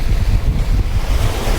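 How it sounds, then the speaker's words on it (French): Strong wind buffeting the microphone at Hua Hin's central beach in Thailand, a wakeboarding spot, with a loud, continuous roar that blends with surf. "parce qu'il y a beaucoup de vent"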